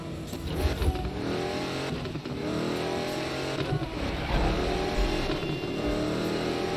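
A Datsun racing in the video game Need for Speed during a sprint race, its engine revving steadily and loudly throughout with continuous road and engine roar.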